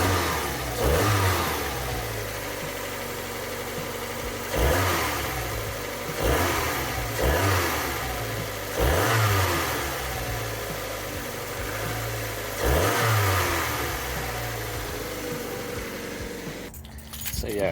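Mazda MX5 engine revving in neutral, several sharp throttle blips rising and falling over a steady idle, close and fairly loud, ending with a brief clatter.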